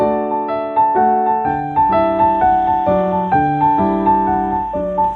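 Bach's Invention No. 1 theme, played with a swung rhythm as a steady stream of clear, pitched notes in a bright, even pulse. No talking, just music throughout.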